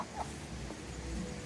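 Backyard chickens clucking near a garden compost area, a few short, soft clucks scattered over faint steady outdoor background noise.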